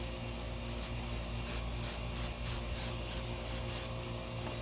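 All-purpose non-stick cooking spray hisses onto metal egg rings over a griddle in about eight quick short bursts, close and crisp above a steady background hum.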